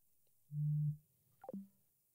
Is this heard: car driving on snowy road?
no